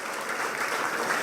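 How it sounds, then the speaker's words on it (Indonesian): A church congregation at a Sunday worship service in Batam claps in a dense, steady burst of applause, loud and close, with no voices standing out. "Beri tepuk tangan lagi buat Tuhan Yesus. Tepuk tangan yang dahsyat."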